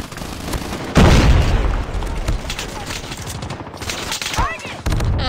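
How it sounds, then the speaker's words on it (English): An automated sentry gun fires in the mobile shooter Call of Duty Mobile, rapid loud bursts of gunfire and booms during a multiplayer match, with game voice callouts and scattered effects mixed in. "Sentry gun deployed."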